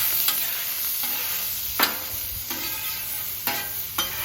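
Bacon sizzles on a Camp Chef flat top griddle, a bright steady crackle with a few sharp scraping ticks from a spatula, close and alone without speech.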